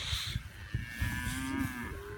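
Red Angus composite calves, including red baldies, moo in a pasture with cow-calf pairs, one long lowing call rising over a steady low rumble of the herd for about two seconds, with no talk.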